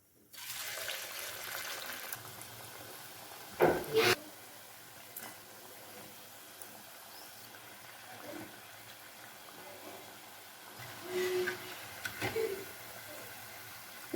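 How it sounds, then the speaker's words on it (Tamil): Sweet dough sizzles in hot oil in a home kitchen, a soft, steady bubbling hiss with a couple of louder splashy bursts as pieces go in, and a voice talks intermittently over it. "எண்ணெயில் போட்டு ஃப்ரை பண்ணி எடுத்துக்கலாம்."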